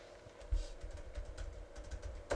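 Computer keyboard keys tapped in an office-style setting, a brief run of close, soft clicks with a louder burst of keystrokes near the end, no voices.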